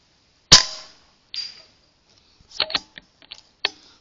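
.22 caliber rifle fired from a tripod outdoors: one sharp loud crack, a fainter second shot, then a cluster of small metallic clicks and clacks from handling the rifle.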